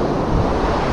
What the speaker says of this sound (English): even though the breeze are blowing